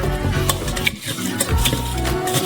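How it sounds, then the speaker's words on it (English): A spoon stirs and scrapes wet watermelon pulp against a sieve, pressing out the juice with soft, squelching strokes and brief metallic scrapes. "With a spoon, we take out some watermelon pulp and transfer it into a sieve. Squeeze out some juice."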